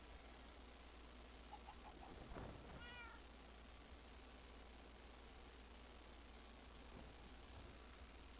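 A cat meows in the Minecraft video game: a short run of soft, rising mews followed by one clearer meow, all faint against a steady background hiss.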